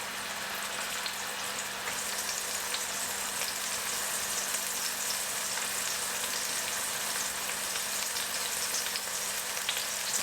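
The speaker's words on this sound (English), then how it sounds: "What we're going to do now is just cook the steaks and keep them warm" Seasoned pork shoulder steaks frying in a pan, a steady close sizzle with dense crackling spatter that carries on evenly without talk.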